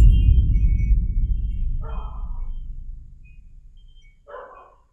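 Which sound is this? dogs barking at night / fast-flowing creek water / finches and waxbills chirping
dogs barking at night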